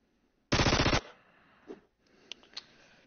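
In a video game, a submachine gun fires one short rapid burst lasting about half a second, loud and close, followed by faint scattered clicks and small thuds.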